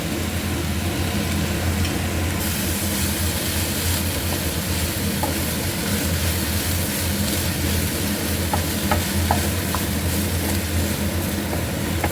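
A coconut and crushed chili mixture is stirred in a hot pan for an egg dish, giving a steady close sizzle and rustle with occasional soft scraping clicks, continuous throughout with no talking.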